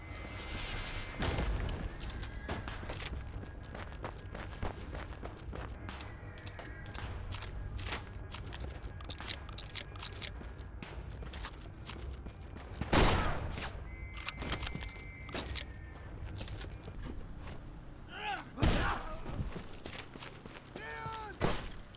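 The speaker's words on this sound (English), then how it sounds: "during trench raids there's a near constant bombardment of artillery, distant gunfire, and bullets passing overhead" Continuous rumble of distant artillery and scattered gunfire during a trench raid in the video game Conscript, with heavier booming thuds standing out now and then over the dense battlefield din.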